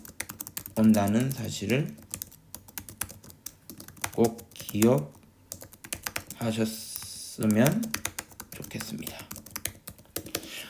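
Rapid clicking of keys on a computer keyboard continues throughout, steady and close, under someone speaking Korean in calm, paced phrases.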